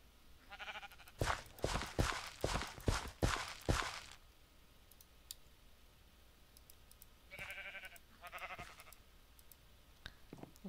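Sheep bleating in a video game: a quick run of about six loud, close bleats, then quiet with faint clicks, followed by a softer pair of bleats later.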